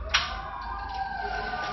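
A siren wails steadily with a long sweeping tone over low rumbling background noise, preceded by a brief sharp click near the start, moderately distant.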